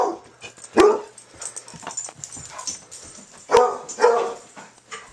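A dog barks a few sharp times close by, with short gaps and softer whimpering noises in between.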